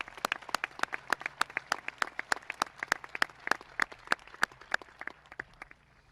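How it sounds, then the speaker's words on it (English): Audience clapping for school staff at a 2021 high school graduation ceremony, a steady run of sharp, dense claps from many hands that thins out and fades toward the end, with no talk over it. "Can we applaud them for their love and dedication to our school and students?"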